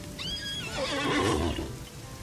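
A horse gives a loud, quavering whinny that rises and trails off, with a faint steady tone in the background.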